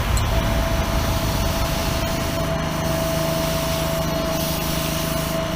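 Continuous hissing spray from a paint gun painting a 1963 Chevy Nova, steady and close, with a faint high tone running underneath throughout.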